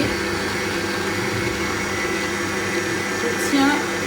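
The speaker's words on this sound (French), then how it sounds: "Mélanger la farine avec les œufs." An electric mixer whirs steadily as it beats flour with eggs in a bowl, a constant loud motor drone that runs unbroken throughout, with a brief higher whine near the end.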